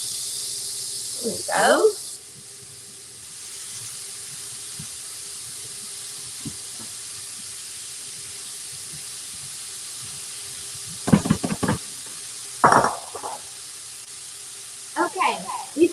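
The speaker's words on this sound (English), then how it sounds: "So in my stainless pan, here's my mushroom, onion, garlic mix, and I'm going to get it browning." A mushroom, onion and garlic mix sizzles in a stainless pan with a steady, even hiss that runs throughout, while a person speaks briefly at a few moments over it.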